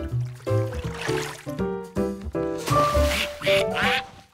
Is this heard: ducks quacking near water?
yes